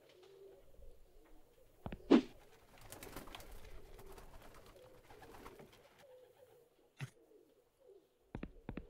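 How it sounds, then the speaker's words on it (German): Pigeons coo softly on a rooftop in a video game, low warbling calls drifting in and out alongside a few sharp clicks and short bursts of noise. "Diese Tauben sehen hungrig aus und sie sehen mich so komisch an."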